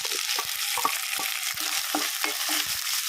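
Ginger, garlic and a small onion frying in oil in a pan for a horse gram stew, a steady sizzle with repeated close scraping stirs of a utensil, no talk.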